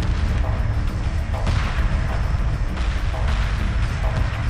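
Space-battle combat from the Homeworld 2 game: dense, continuous rumbling artillery and booming explosions, loud and unbroken throughout.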